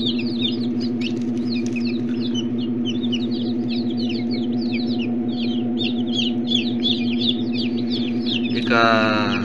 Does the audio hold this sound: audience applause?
no